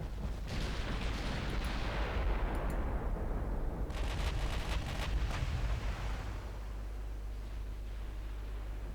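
Naval guns fire armour-piercing shells in the battleship game Ultimate Admiral Dreadnoughts, a dense roll of overlapping booming reports with a sustained low rumble that lingers after the volley.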